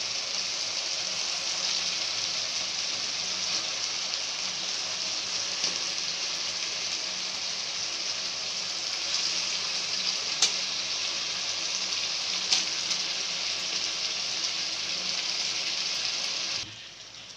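Chicken frying in a pan with ginger, garlic and green chilli paste for biryani, giving a loud, steady, close sizzle with occasional faint stirring clicks until it drops away near the end.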